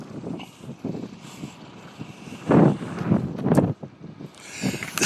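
Wind buffets a microphone outdoors in uneven, rumbling gusts, swelling and dropping in irregular bursts at close range.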